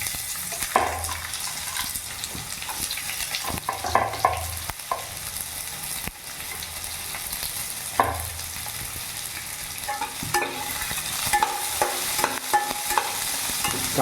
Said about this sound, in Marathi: कांद्याला चांगलं परतवून घेऊ लाल होईपर्यंत